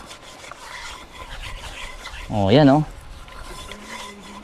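Wild plant leaves are kneaded and rubbed by hand, giving a soft, continuous scraping rustle up close, interrupted briefly by a short spoken exclamation.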